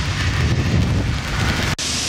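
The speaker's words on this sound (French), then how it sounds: "Bon, il pleut, j'ai les parapluies, continuons." Steady rain falls outdoors during a March shower in Pau, a dense close hiss that is fairly loud, briefly broken by a handling knock near the end, with no talk.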